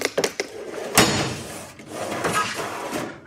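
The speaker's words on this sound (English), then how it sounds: "the drawers are really kind of draggy" Metal toolbox drawers, greasy and dragging, sliding open and shut in a series of scraping, clattering strokes, with a sharp knock near the start and longer grinding slides after.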